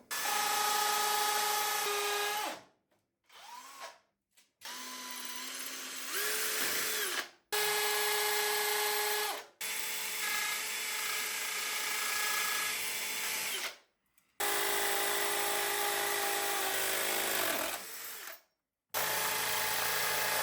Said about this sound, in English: Hammer drill, let's go!